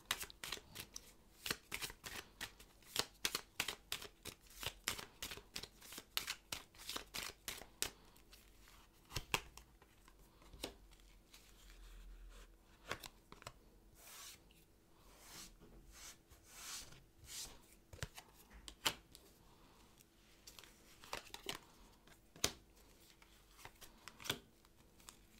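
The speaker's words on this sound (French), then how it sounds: "Alors je vais battre les cartes devant vous." Tarot cards are shuffled close up, with repeated soft riffles and sharp flicks in quick bursts, quiet and without talk.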